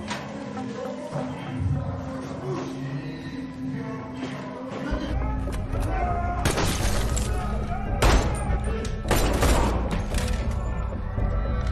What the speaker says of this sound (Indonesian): Sempat terjadi baku tembak di dalam sana